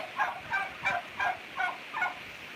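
Backyard chickens gathered at feeding time give a steady run of six clucks in an even rhythm, close by and fairly loud against a quiet yard, with no talking.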